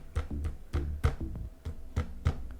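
A series of dull, muffled thuds on a tabletop picked up by a Fifine USB microphone, about eight knocks at an irregular pace, close and moderately loud with no talking.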